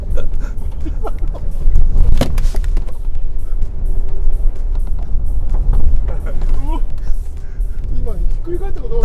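A Mitsubishi Triton pickup in rally driving on a narrow road, its engine a steady loud drone with wind buffeting from inside the cabin while people talk over it.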